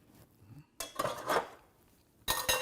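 An arugula salad with beets and walnuts is tossed in a bowl, giving two short bursts of utensil clatter and rustling with a quiet pause between them, close and fairly soft.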